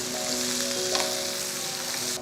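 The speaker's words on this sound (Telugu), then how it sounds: "దీని గుర్తు ఏంటంటే చిట శబ్దం వస్తుంది" Onion pieces frying in a pan for peanut chutney, a dense continuous crackling sizzle, close and steady, with a faint tonal hum in the background.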